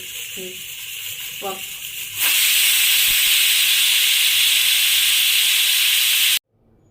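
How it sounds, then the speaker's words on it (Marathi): A pressure cooker cooking potatoes lets out a loud, sustained whistle of escaping steam that cuts in suddenly and holds steady for about four seconds, then stops abruptly. It is preceded by brief talk. "कुकरचे 4 शिट्ट्या झाले"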